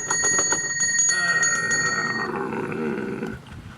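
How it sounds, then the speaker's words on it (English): A pulled door bell jangles rapidly and loudly at a house door on a cold night, a fast metallic ringing that runs for a couple of seconds and then fades into a lingering ring. "Now, come on. Pull the bell again harder."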